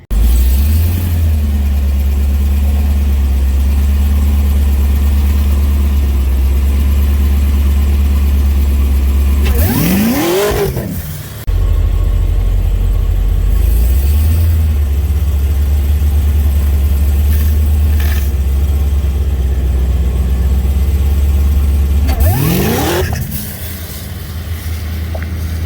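A Cadillac CTS-V with a stock engine roars at a drag strip, holding a loud, steady drone before two sharp revving bursts with rising pitch, each followed by a drop, close and continuous throughout.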